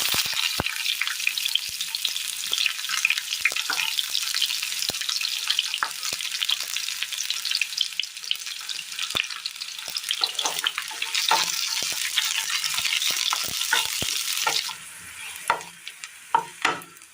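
About five large chopped shallots fry with mustard seeds in a hot pan, giving a strong, continuous close-up sizzle with frequent small crackles and stirring ticks that eases off near the end.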